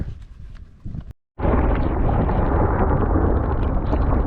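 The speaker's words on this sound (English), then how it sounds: "You can hear the thunder, heavy hail coming down" A rolling rumble of thunder, a brief silence, then a loud dense roar of heavy hail pelting down close by on a mountain hike near Chamonix, steady and unbroken.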